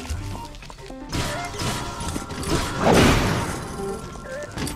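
A weapon shatters in Zelda: Breath of the Wild, a crashing smash amid combat clatter and thuds, moderately loud, with game music and sound effects around it.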